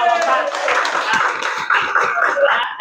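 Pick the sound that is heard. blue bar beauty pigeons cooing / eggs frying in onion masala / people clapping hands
people clapping hands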